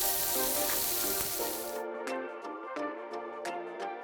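Blanched Brussels sprouts sautéing in olive oil with butter added, a dense sizzle that cuts off abruptly partway through, followed by scattered ticks and clinks of the pan.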